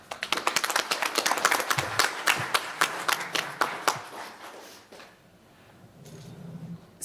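Audience applause for the panelists at a panel discussion on communication ethics across cultures: a burst of crisp, fairly close clapping that thins out and fades to near quiet after about five seconds.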